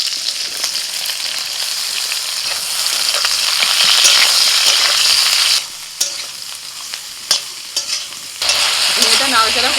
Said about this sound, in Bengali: ঝিঙেটা নাড়াচাড়া করতে করতে আস্তে আস্তে ঝিঙেটা নরম হয়ে গেছে।